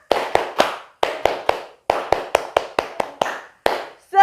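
A group claps the rhythmic Indonesian 'tepuk semangat' cheer in a classroom workshop: a pattern of sharp, close hand claps in short bursts of three and pairs with brief pauses, ending in a short shouted voice.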